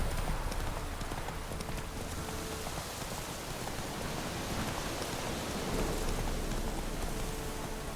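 Geralt's horse Roach gallops in The Witcher 3, a steady clip-clop of hooves under heavy, constant rain hiss.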